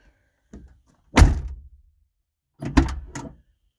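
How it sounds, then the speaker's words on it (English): A car door on a 1988-91 Ford Crown Victoria LX wagon shuts with a solid thunk, preceded by a faint click, then a second heavy thunk with a rattle follows a second later, close and clear. "I plugged it back in, shut that door, and I'll get out and raise the door handle"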